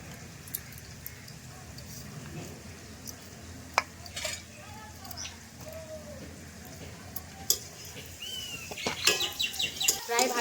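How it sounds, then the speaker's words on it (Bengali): Soft sizzling and scraping of rice frying in a pan for fried rice, with occasional clinks and a voice speaking briefly near the end. "ভাজা হয়ে গিয়েছে আর একটু ভাজবো"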